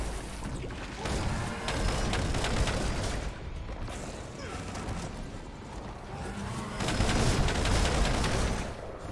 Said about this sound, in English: Lots of bullets.